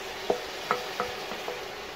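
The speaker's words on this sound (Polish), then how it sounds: "i tą wodę chcę mieć, żeby mi tutaj ładnie zeszło to z dna garnka." A spoon stirring water in a pot to deglaze the browned bottom while cooking cabbage and potatoes, a few soft scraping knocks over a steady sizzling simmer.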